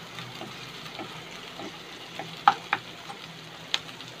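Onion sautéing in a pan for a veg Chinese bhel, a soft steady sizzle with a few sharp clinks of a spoon stirring, close and fairly quiet.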